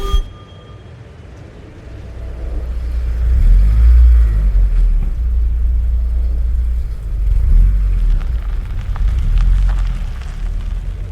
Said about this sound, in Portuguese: De repente há um carro que para.